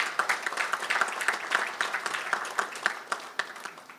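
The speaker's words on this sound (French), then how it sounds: "Et je dois vous demander donc d'applaudir dès maintenant Vincent." Room applause at a ministerial council meeting of the Indian Ocean Commission greets Vincent, a lively burst of many hands clapping with crisp distinct claps, steady for four seconds and slowly tapering.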